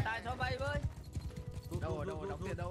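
Horse hooves clip-clop in Mount & Blade II: Bannerlord, a steady stream of game hoofbeats running under near, continuous talking voices throughout.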